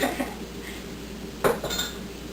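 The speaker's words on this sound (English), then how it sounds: "now I'm just stirring that into my scone mixture" Spoon clinking and scraping against a mixing bowl as milk and egg are stirred into scone batter for savory cream cheese scones, a steady soft clatter with one sharper knock midway.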